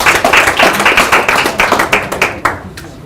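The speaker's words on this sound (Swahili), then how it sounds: "Tupigie kila group makofi tafadhali." A public deliberation audience in Nakuru County claps for each group, with a burst of close, lively hand clapping that thins out toward the end.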